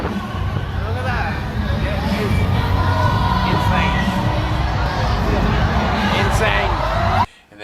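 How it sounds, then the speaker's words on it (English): A packed crowd fills a Vietnamese street with dense murmuring babble and passing traffic, steady and enveloping, cutting off abruptly at the end. "We are stuck in a crowd. It feels like millions of people."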